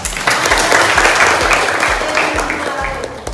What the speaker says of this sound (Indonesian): beri tepuk tangan untuk Mei